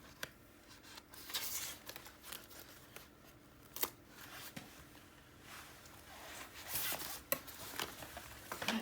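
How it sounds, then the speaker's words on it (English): Tape is peeled off a panel of a mini scrapbook album, making soft, intermittent ripping and rubbing sounds with a few sharper tearing bursts, close up and quiet. "And then I'm going to peel off the tape."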